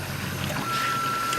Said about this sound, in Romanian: Aici avem motorul de precizie care mișcă aceste piese ce strâng balonul de resuscitare.